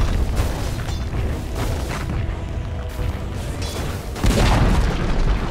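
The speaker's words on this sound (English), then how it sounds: "Dire's middle tower has fallen." A tower collapses in Dota 2 with deep, loud booms and crashing impacts over constant in-game battle noise, ending in a heavier burst near the end.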